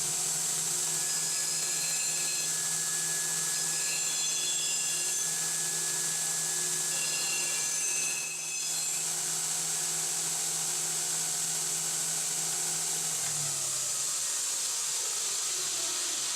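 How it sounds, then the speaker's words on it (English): Power tool grinding a heavy burr off a steel disc brake bracket, a steady high whine running continuously at close range, dipping briefly midway before resuming, with no talk. "I want to get the burr off the back here."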